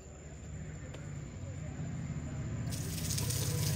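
Water spraying steadily from a hose onto plants at home, a continuous close hiss that grows slightly fuller toward the end over a low background hum.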